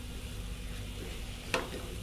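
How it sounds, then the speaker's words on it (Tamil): Raw papaya stir fry cooking in a pan over a slow flame gives a quiet, even sizzle throughout, broken by one brief clink partway through. "அப்படியே ஸ்லோ ஃப்ளேமில் குக் ஆகட்டும்."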